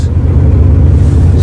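A 1976 Chrysler New Yorker engine runs right after a cold start, a loud, steady, deep rumble close to the listener with no talking.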